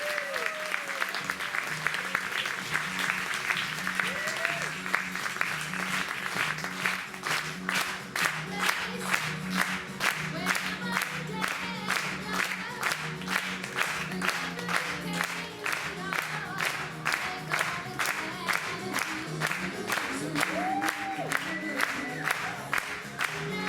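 Dense, sustained clapping from a large audience at a comedic show, steady and loud across the whole stretch with occasional cheers and whoops mixed into the crowd noise.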